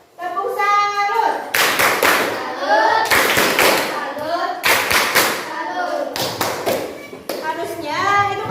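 A school class performs the Indonesian tepuk salut rhythmic clapping routine for the red group: bursts of loud, sharp group claps in a patterned rhythm, alternating with children's chanting voices.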